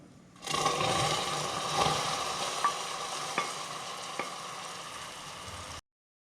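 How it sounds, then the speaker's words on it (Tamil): Caramel poured into wheat flour and stirred in a pan for Tirunelveli halwa, a loud steady bubbling sizzle with a few sharp spoon taps, close and alone, cutting off abruptly. "இதை இப்போ நல்லா இந்த மாதிரி மிக்ஸ் பண்ணிக்கலாம்"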